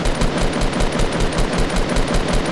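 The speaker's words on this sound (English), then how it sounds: "I'm shooting." Rapid automatic gunfire in the Fortnite video game, a dense continuous stream of evenly spaced shots rattling loudly and closely throughout.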